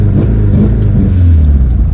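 A Subaru engine is held at a set launch-control RPM with the pedal floored, giving a loud, close, steady low rumble with a constant pitch for the whole two seconds.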